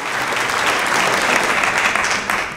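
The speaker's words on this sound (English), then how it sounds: "Round of applause." Audience applause at a college reunion conversation event, a dense steady burst of many hands clapping that swells and holds close and loud, then tapers slightly at the end.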